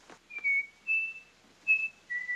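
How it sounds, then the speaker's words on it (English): A man whistles a short tune in a classic TV episode, four clear sustained notes at a steady, unhurried pace, fairly soft and close with nothing else around them. "What's that you're whistling?"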